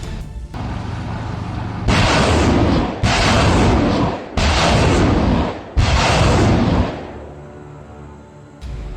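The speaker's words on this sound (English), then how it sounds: "after which missile strikes were launched." Missile strikes hitting Russian military vehicles in quick succession, heard as four loud, heavy explosive blasts, each a sustained roaring burst of about a second, separated by short lulls, with no voices.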